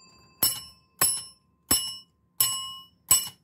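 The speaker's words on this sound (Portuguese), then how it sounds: "Isso aqui é um sino de porcelana" A porcelain bell from a collection, a type common in Austria, is struck five times at roughly even intervals, each a bright glassy ring that decays quickly, close and clear with no talk.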